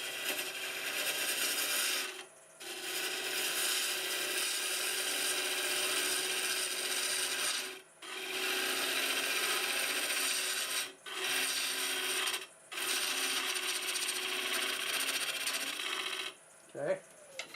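A half-inch bowl gouge cuts a wood blank spinning on a lathe at 800 RPM, making a steady loud scraping rasp broken by several brief pauses as the tool lifts off.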